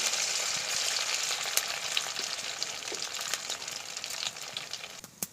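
Sitabhog semolina sweets fry in hot oil after being scattered in by hand, giving an even, moderately loud sizzle with a few small pops and clicks as they cook.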